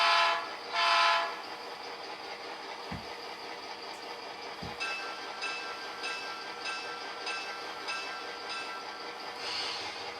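Soundtraxx Tsunami 2 decoder sound in an HO-scale Southern Pacific GP9 locomotive: a small speaker produces a steady diesel engine rumble. Two short horn blasts sound at the start, then a couple of clanks, with the idle continuing underneath.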